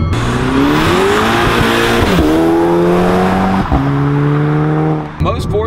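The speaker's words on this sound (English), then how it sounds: "these four cylinders sound kind of ricey and rappy" Four-cylinder engine of a VW Mk6 GTI with an APR Stage 2 tune, loud and close, revving hard through rising and falling pitch sweeps with abrupt shifts between gears, a raspy, buzzy tone throughout.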